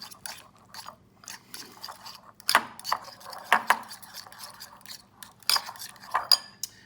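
A utensil scrapes and clinks against a bowl while half a cup of regular mayonnaise is stirred for a chipotle garlic aioli, with irregular close taps and knocks and no talking.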